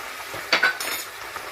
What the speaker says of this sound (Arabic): نقلب كويس